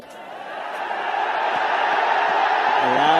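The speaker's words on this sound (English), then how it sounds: "A loud cheer from the Nepal crowd" A large Nepal crowd at a cricket match against the USA roars in a sustained cheer, swelling steadily louder over a few seconds into a broad, distant wash of voices.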